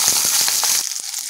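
Small shallots dropped into hot oil in a kadai, giving a quick burst of crackling pops that cuts off abruptly into near silence.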